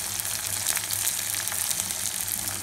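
Curry leaves sizzling in hot oil for beetroot poriyal, a dense, bright, steady hiss of frying with fine crackles, close and unbroken.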